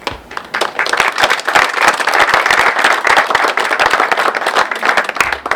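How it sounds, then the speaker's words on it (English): Audience applause at a school district annual meeting: dense, steady clapping from a roomful of people that holds at full strength for several seconds before easing slightly at the end. "I would like also to have a round of applause for this wonderful group."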